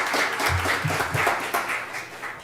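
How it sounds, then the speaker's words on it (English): Audience applause at the 25 Most Remarkable Teens Awards Ceremony 2025, a thick, continuous roll of clapping with a few low murmured voices underneath. "give her a round of applause."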